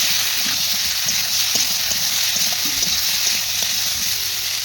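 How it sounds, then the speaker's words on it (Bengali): Cauliflower fries in hot oil, giving a loud, steady sizzle and hiss close by, broken by soft scraping and clicks from stirring. "এরপর ওই তেলে আমি ফুলকপিটা দিয়ে দিলাম।"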